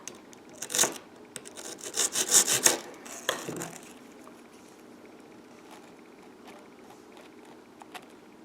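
A graham cracker piece is trimmed with a few gritty scraping, sawing strokes up close, loud for about three seconds before fading into faint scattered clicks.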